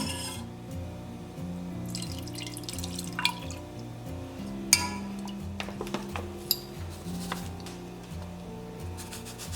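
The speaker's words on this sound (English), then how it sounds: "I'm gonna put enough water in here to cover the corn." Water runs into a saucepan holding corn, with drips and clinks of cookware against an even background of music.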